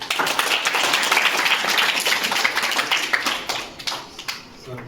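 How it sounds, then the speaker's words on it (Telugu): An audience at a school event claps loudly and steadily, the applause thinning into scattered individual claps near the end, with faint voices underneath. "క్లాప్స్ కొట్టండి"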